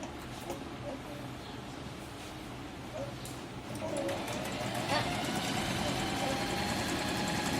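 Singer M3505 sewing machine stitching a small zigzag seam, a faint steady mechanical whirr that grows slightly louder midway, with a person talking over it.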